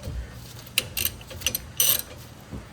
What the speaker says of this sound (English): I'm just going to loosen the rest with the socket